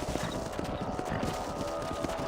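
Hoofbeats of horses galloping in Red Dead Redemption, a dense steady clip-clop run across the whole stretch under a low rumble of game ambience.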